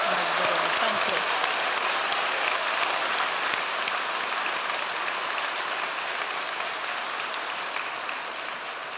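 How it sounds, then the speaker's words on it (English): Sustained applause from a seated audience fills a university conferring ceremony in Limerick, steady dense clapping that holds at an even level and eases slightly toward the end. "Maybe a final round of applause just for everybody who made today possible."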